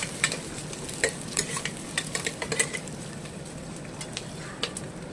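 Whole garlic cloves with two green chillies and two dried red chillies frying in hot oil in a pan, a steady close sizzle broken by scattered clicks and scrapes of a spoon stirring, no voices.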